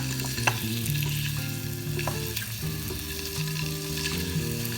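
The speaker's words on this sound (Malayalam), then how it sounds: "അതൊന്ന് വെച്ചിട്ട് ഒന്ന് വഴറ്റുകയാണ്" Eggs are sautéed in masala with turmeric and salt in a pan, giving a steady close sizzle and stirring scrapes over a low humming background.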